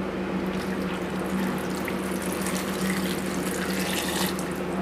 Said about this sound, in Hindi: पानी डालना है एक गिलास।